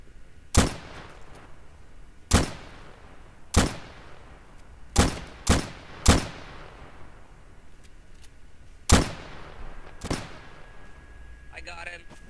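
Gunfire in a WWII video game set in 1944, about nine sharp, loud single shots at irregular intervals over twelve seconds, each with a short echoing tail, with quiet background ambience and a faint voice near the end.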